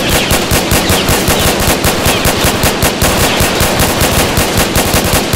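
Rapid automatic machine gun fire in a Roblox game, a loud continuous stream of closely spaced shots through the whole stretch with no talk over it.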